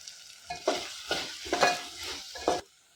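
Chopped mint and coriander hit a hot pot for rice and sizzle as a spoon stirs them in, four or five scraping strokes over a low crackle, close and alone.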